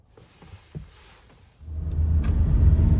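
A camper van's engine starts up and rumbles steadily near the microphone after a second or so of quiet interior clicks and small bumps, with no talking.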